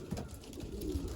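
Pigeons in a racing loft give soft, low cooing, faint and close against a steady background murmur, with no talk over it.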